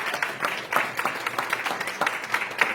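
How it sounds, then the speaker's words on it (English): An audience at an international United Nations conference applauds, producing a short burst of steady, moderately loud clapping that continues evenly throughout. "that deserves some big round of applause."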